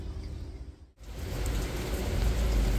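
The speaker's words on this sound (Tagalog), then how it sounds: "maulan pa rin po dito sa amin" Steady rain falls on a surface, a soft hiss that briefly dips before swelling into a denser, louder patter that continues to the end.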